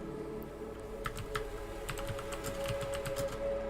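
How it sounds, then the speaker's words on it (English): Rapid, uneven clacking of a loud computer keyboard being typed on close by, keystrokes clustering in quick bursts over a faint steady hum, with no talking. "Pardon the sound of the typing. I gotta get a quieter keyboard"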